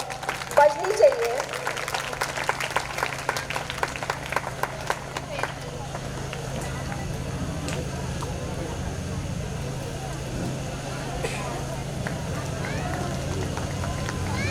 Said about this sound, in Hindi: तुलबा और तालिबात, प्लीज जरा तालियां बजनी चाहिए।